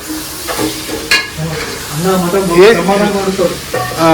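Mutton sizzles and fries in a pan while being stirred at home, a steady loud hiss with scraping stir strokes, and a voice talks over it.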